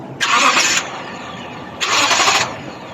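Starter motor of a 2009 Toyota Sequoia with a no-crank fault, jumped with a wire: two separate bursts of whirring spin, each about half a second long, loud and close, with a pause between them.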